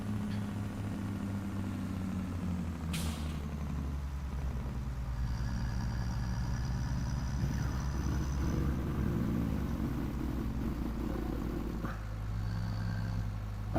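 A truck engine idles in the Farming Simulator 25 game as a steady low rumble with a faint whine on top and a few brief clicks, continuous throughout.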